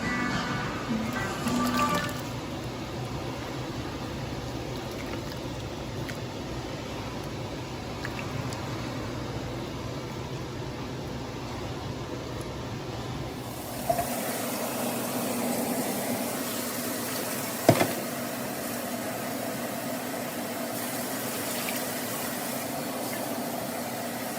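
Water is poured into a pan of collard greens with smoked turkey, making a continuous gurgling, splashing fill that runs steadily throughout, with the background shifting partway and a couple of brief knocks.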